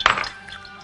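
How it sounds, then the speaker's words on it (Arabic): A single short crack of an egg against the rim of a bowl, crisp and close, then a faint settling trail with no talk, in a home kitchen while preparing breaded chicken. "خليني الاول اكسر البيض"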